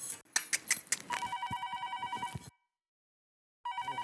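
A telephone rings with a rapid warbling electronic trill in repeated bursts, a brief silence, then ringing resumes; a few sharp knocks come first, in a TV sitcom scene.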